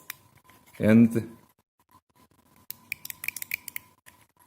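Brand-new replacement power window switches for an Alfa 155 click in a quick, irregular series of sharp, close, crisp snaps after a brief spoken word.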